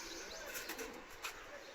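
Caged racing pigeons give a few soft, low coos among faint chirps, quiet and brief against a hushed background.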